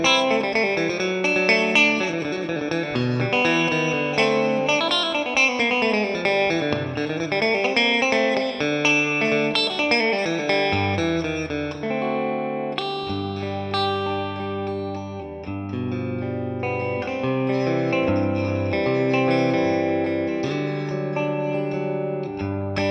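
An electric guitar on a G&L, set to the middle pickup position, plays a flowing run of notes and then chords, with effects, distortion and chorus, bright and continuous throughout.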